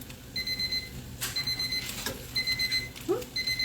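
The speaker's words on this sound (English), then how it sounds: "Timers everywhere." A kitchen timer rings in a home kitchen while fried rice and dumplings cook, repeated bursts of high electronic beeping in a steady pattern, fairly close over faint kitchen background.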